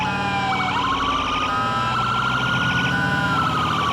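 A police car siren in the video game GTA 4 wails continuously and loudly up close, alternating between sweeping tones and rapid yelp-like warbles, with a low engine rumble beneath.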